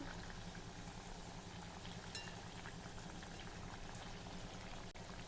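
Hot oil bubbles and fizzes around chakli deep-frying over medium heat in a constant, low, even sizzle, quiet and uninterrupted, with no voices.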